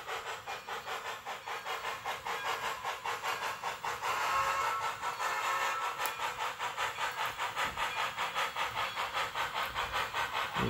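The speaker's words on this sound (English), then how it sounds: "been upgraded to full sound with the addition of a TCS sound card" A Bachmann On30 2-6-6-2 model steam locomotive with a TCS sound decoder and Soundtraxx mega bass speaker gives off rhythmic steam chuffing over a constant hiss, steady and moderately quiet, with no talk.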